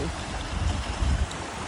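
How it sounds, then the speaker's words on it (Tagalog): Water churned up by a passing boat rushes and slaps in a low, steady wash, with heavier surges near the middle; no voices. "Lakas ang tubig kapag may boat na dumadaan."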